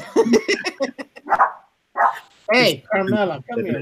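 A Chihuahua gives a few short, sharp yips and barks interleaved with a person talking nearby, the dog's calls close and fairly loud between stretches of speech.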